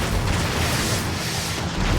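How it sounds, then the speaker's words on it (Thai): Grenades explode in the real-time strategy game Battle Realms Zen Edition, a dense, loud, continuous booming roar of blasts with no talking. "ปาระเบิดปาระเบิดปาระเบิดไปแล้ว"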